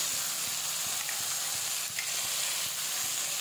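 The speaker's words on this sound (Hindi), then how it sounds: "हमारे आलू और केले भून रहे हैं" Potatoes and raw bananas frying in a pan, giving a steady close hiss of sizzling oil throughout, without speech.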